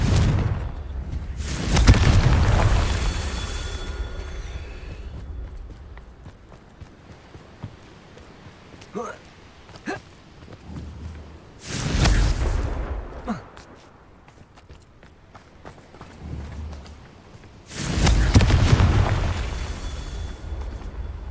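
Three big Confringo blasting-spell explosions in Hogwarts Legacy, each a loud booming burst spaced several seconds apart, with quieter rumble, clicks and small effects in between.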